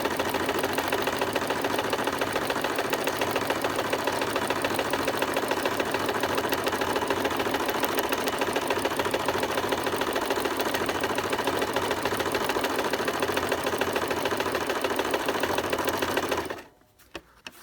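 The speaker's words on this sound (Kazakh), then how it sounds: "Ол үшін неше түрлі узорларды жай ғана былай тігіп шықсаңыз болады." A domestic sewing machine free-motion embroidering patterns, running loud and steady with a fast continuous stitching rattle for about sixteen seconds before stopping abruptly, followed by a few faint taps.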